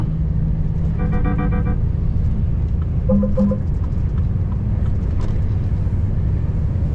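A car overtakes a tractor on a French country road, heard from inside as a loud, steady engine and road rumble throughout with a brief horn-like tone partway through.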